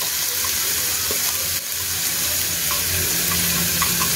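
Grated chilli, onion and cauliflower fry in refined oil with cumin seeds, producing a loud, steady sizzling hiss throughout, with faint low clinks of a pan in the background.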